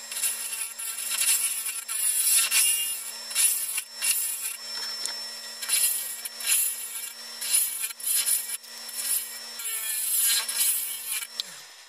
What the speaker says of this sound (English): now we're going to put it back on the lathe here, and we are going to form our dome